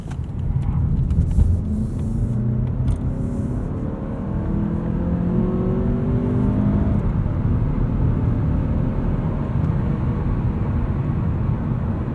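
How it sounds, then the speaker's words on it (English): Interior view of a 2019 Mazda3 AWD Premium sedan taking an entrance ramp under hard cornering: a steady, close engine drone and road rumble run throughout with no talk. "feel this car under some hard cornering"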